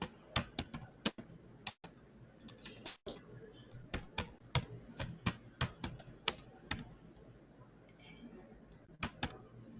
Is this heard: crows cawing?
no